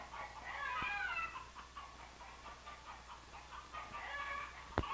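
Chickens clucking on a dairy farm at feeding time, with several hens calling in bursts over a quiet barnyard background and a couple of sharp knocks.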